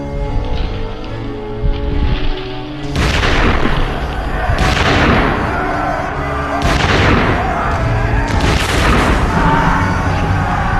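Heavy volleys of musket fire in a Napoleonic-era battle at close range against the French Guard, with several loud booming bursts roughly every two seconds over a constant rumbling din.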